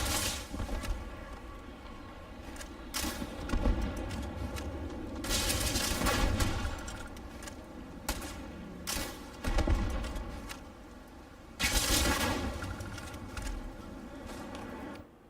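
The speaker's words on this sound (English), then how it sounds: "Just shoot everything!" Gunfire in the Starfield video game, with several separate bursts of shots and booms spread over a steady background, some loud and close, with pauses between them.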